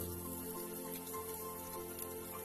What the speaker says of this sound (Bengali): চালটাকে দেওয়ার পরে আমরা একটু ভালোভাবে ভেজে নেব